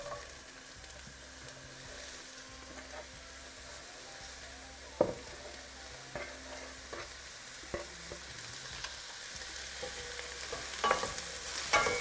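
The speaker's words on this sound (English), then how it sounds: "going to add in the chopped up leeks. Just cook this for 5 minutes" Chopped leeks frying in salted butter and olive oil, a soft, steady sizzle at low volume with occasional sharp clicks and scrapes of stirring that grow a little busier toward the end.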